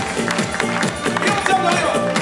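Wedding guests at a reception in a Lyon hotel make loud, rhythmic noise, clapping and cheering together in a dense, steady crowd din with music pulsing underneath.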